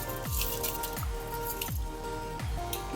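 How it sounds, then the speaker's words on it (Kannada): Salt and a measure of washed rice go into a cooking pot, giving a run of wet, squishy drops and splashes repeating at a steady rhythm over a constant kitchen hum. "ಈಗ ನಾನು ರುಚಿಗೆ ತಕ್ಕಷ್ಟು ಉಪ್ಪು ಹಾಕೋತಾ ಇದ್ದೀನಿ ಜೊತೆಗೆ ತೊಳೆದಿಟ್ಟಿರುವಂಥ ಒಂದು ಪಾವ್ ಅಕ್ಕಿ"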